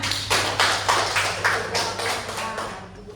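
Classroom students clapping together in a rhythmic, evenly spaced pattern of about eight loud claps that fade out at the end.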